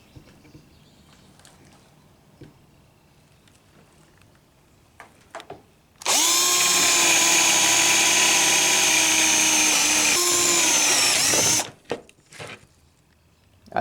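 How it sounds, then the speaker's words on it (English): A power drill with a 3/4 inch bit bores a trigger hole in wood: after quiet handling noises, a loud steady motor whine runs for about six seconds, then stops abruptly. "For our trigger hole, we will be using a 3/4 inch drill bit, and we're going to put it right there."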